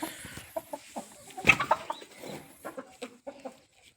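Desi hens cluck in short, irregular bursts close by, one about to lay, one louder squawk standing out among the quieter clucks.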